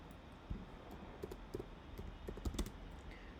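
Close, quiet typing on a computer keyboard while coding, with scattered key clicks and a few quick clustered strokes against a faint background.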